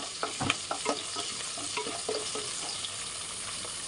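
Onions and whole green chillies fry in a pan for chicken fry piece biryani, sizzling with a soft steady hiss while a spoon stirs in quick scraping strokes, close but fairly quiet.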